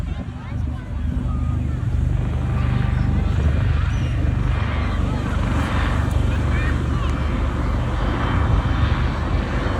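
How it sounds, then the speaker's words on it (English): A Westland AW159 Wildcat combat helicopter at an air festival gives a steady, loud engine roar with rotor rumble that fills the scene continuously, with voices mixed in underneath. "That's the Western 159 Wildcat combat helicopter"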